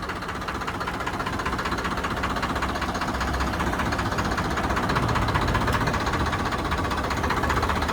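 A Farmtrac 60 tractor engine, just back from pump repair work, runs steadily and close by, its rough mechanical knock and hum rising slightly in loudness as the throttle is raised, with no talking.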